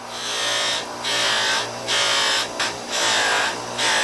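A high-pitched rotary power tool whines steadily while polishing carved bone, its pitch and loudness dipping briefly several times as it works against the surface.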